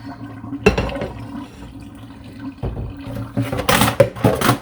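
Dye water poured out of a container after rinsing wool, with two gushing splashes, one short and one longer, that slosh loudly close by.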